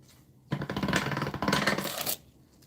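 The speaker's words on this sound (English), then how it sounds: "And then we're going to run this through the pasta machine again." Polymer clay being fed through a hand-cranked pasta machine, a close, rattling metallic clatter with a quick ratcheting rhythm lasting under two seconds, alone without speech.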